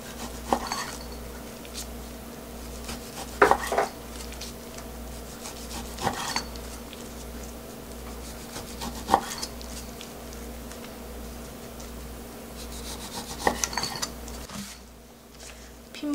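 A knife slices raw beef for yukhoe sashimi, producing soft, scattered cuts and board taps that rise in a few louder clusters over a low, steady background hum.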